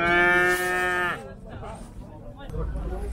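A cow at a livestock market gives one loud, drawn-out moo lasting about a second, followed by a busy market background of murmured voices and handling noise.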